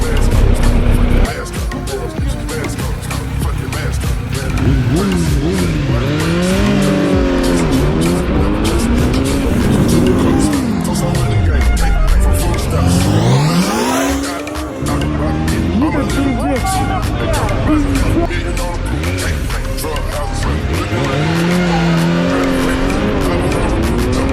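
Loud Kawasaki Z900 sport motorcycle engine revving up and down repeatedly, pitch sweeping high then dropping low, with a close voice talking over it.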